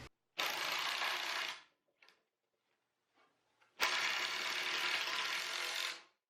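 A power drill drives 3.5-inch screws into 32.5-inch wooden boards on a workshop door awning frame, in two long, loud, steady runs of about a second and a half and two seconds, with small knocks in the quiet gap between them.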